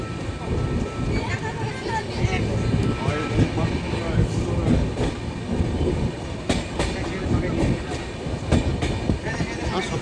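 The 13010 Doon Express runs along the rails from Ayodhya Dham toward Howrah, a loud continuous rumble with rhythmic clickety-clack of the wheels heard from inside the moving train, with people speaking faintly at times.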